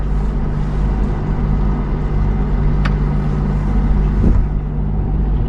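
Steady, loud low rumble of an 85-foot yacht's engine idling while docking in a harbour, droning continuously with a couple of faint clicks on top.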